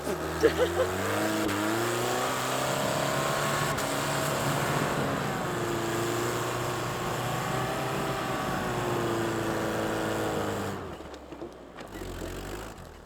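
Off-road truck stuck in deep snow, its engine revving hard and holding high, with the pitch rising and falling over wheelspin before easing off near the end.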